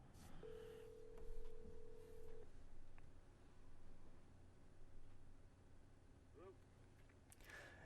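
A phone call is placed during a talk show, with a steady dial tone held for about two seconds. Faint beeps and clicks follow over low background noise and soft voices.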